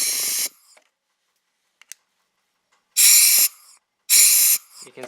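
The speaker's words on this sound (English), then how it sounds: "I got some compressed air. I'm going to test this throttle slide here. So I'm just going to blow it in these two top holes." Compressed air blown through the two top holes of a Suzuki DRZ400S motorcycle carburetor's throttle slide: two loud, sharp hissing bursts about a second apart, with a short earlier blast and faint clicks in between.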